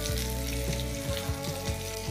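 Vegetables frying in ghee in a covered pan for cashew rice give a steady, close sizzle with occasional stirring scrapes, heard alone throughout.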